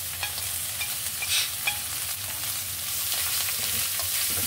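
Leafy greens sizzle loudly in hot oil with browned onion, garlic and green chili, a constant frying hiss broken by close scraping stirs.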